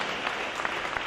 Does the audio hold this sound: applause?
yes